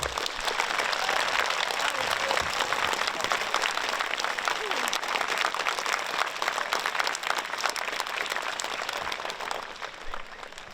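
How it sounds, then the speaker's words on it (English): A large audience breaks into sustained applause with some cheering, a dense, even wash of clapping that holds steady for about ten seconds before easing slightly at the end. "let's give them a big round of applause and a big cheer"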